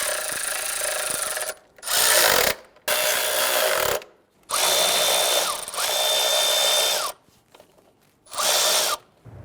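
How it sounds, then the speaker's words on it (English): A power tool or ratchet tightens intake manifold nuts on a 1999-2004 Jeep Grand Cherokee 4.7L V8, loud close whirring bursts of a second or so, repeated five times with short silent pauses between. "Let's tighten down the nuts on the passenger side."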